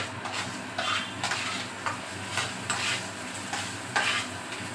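Spice paste (masala) for a cauliflower and potato curry fries in a pan, a steady sizzle broken by repeated scraping strokes of a spoon against the metal.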